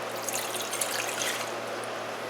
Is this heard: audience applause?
no